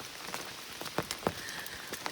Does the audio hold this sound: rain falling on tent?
yes